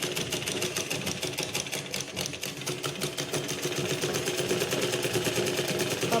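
A sewing machine stitches a silk pavadai skirt for a baby girl, running in a steady, rapid mechanical chatter of needle strokes that continues without pause at close range.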